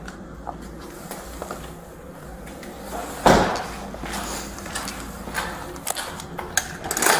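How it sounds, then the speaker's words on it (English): A door swings shut with one solid thump partway through, followed by a few lighter clicks and knocks from the latch and handle in a quiet indoor space. "step to your right so I can close the door"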